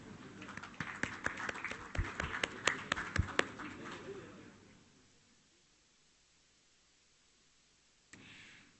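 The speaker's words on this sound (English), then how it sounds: "A big round of applause." A round of applause at a Malaysia–Dubai bilateral cooperation press conference: dense, fairly distant clapping for about four seconds that fades into quiet room tone, then a brief noise near the end.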